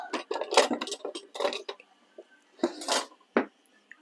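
Metal cooking utensils rattling and clinking close up as one is pulled out to stir hot olive oil, several bursts of jangling separated by brief pauses.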